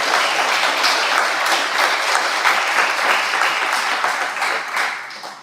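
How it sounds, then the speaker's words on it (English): Sustained audience clapping at a wine and chill live event, a thick, steady wash of many hands at fairly loud level, easing slightly near the end. "Yeah, you can clap. You're supposed to clap."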